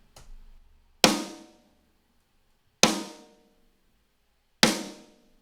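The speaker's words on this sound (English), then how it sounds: "And the samples that I've chosen and put together sounds like this with no processing." Unprocessed drum samples layered for a snare in a metal mix, heard as three sharp, loud hits spaced nearly two seconds apart, each ringing briefly before dying away, with a faint low rumble before the first.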